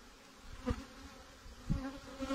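Honeybees buzzing over an open hive frame in spring, a low steady hum close by with a couple of louder passes as bees fly near.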